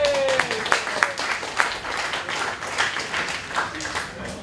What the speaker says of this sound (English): give Bailey a round of applause